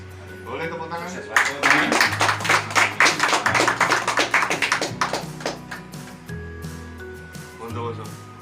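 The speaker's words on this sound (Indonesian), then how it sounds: "Boleh tepuk tangan." Group applause at an East Java PCTAI association meeting: after a voice speaks, a run of rapid clapping swells for several seconds, then fades back under continued talk and a low hum.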